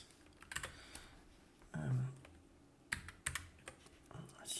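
Bursts of typing on a computer keyboard during billing data entry, with quick clusters of key clicks spread across the clip and a short low thump in the middle.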